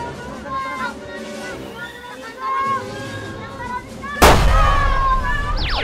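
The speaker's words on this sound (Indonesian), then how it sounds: "Aduh, siapa yang main petasan?" A sharp, loud firecracker bang cracks out suddenly amid excited chatter and overlapping voices, followed by lingering crackle and commotion.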